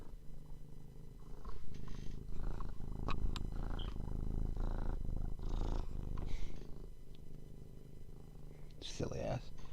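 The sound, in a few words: cat purring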